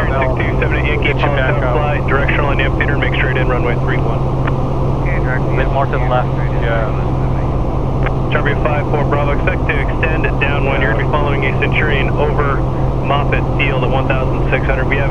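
Light airplane engine drones steadily and loudly through take-off and landing practice, a constant cockpit hum with radio chatter and pilot talk over it.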